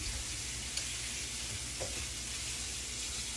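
Food frying in oil in a pan on a home kitchen stove, a steady soft sizzle running the whole time with a faint clink partway through, no talking.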